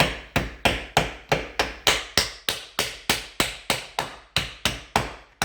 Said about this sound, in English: I'm just going to try to wedge it down in here to start prying this off slowly